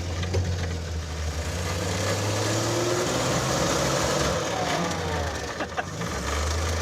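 An AMC Pacer engine, started in gear with no clutch pedal, runs with a low steady rumble and faint mechanical rattles, fairly close and alone without talk.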